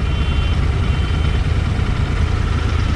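A Royal Enfield Continental GT 650 motorcycle engine idling steadily nearby, a constant low rumble with no change in pitch throughout.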